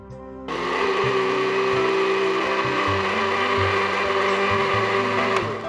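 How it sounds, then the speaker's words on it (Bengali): A kitchen blender starts abruptly and runs steadily at full speed, blending litchi and mint for lemonade, with a loud, close, whirring motor and a churning rattle throughout, alone without talk. "এবার এটা ব্লেন্ড করতে হবে।"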